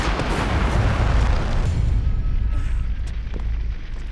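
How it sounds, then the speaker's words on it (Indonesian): A gas pump tank blown up by a shotgun blast in a film scene, a huge loud roaring explosion that rumbles on and slowly fades, with no speech. "Dennis lalu menembakkan peluru shotgunnya bukan kepada si parasit, melainkan ke tangki pompa bensin."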